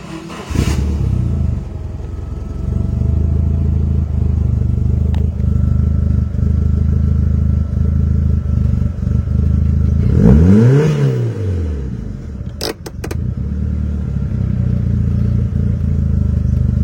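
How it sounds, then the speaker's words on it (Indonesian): A Mitsubishi Lancer Evolution IV engine idles loudly and steadily nearby, then revs up sharply once and falls back to a rumbling idle, with a couple of brief clicks. "Nah sekarang kita coba dengerin suara mesinnya yuk."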